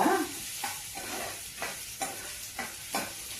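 Tomatoes sizzle and fry in a pan for Maggi noodles while a spoon stirs them in a steady rhythm of five or six scraping strokes. The frying hiss stays constant underneath at a moderate level.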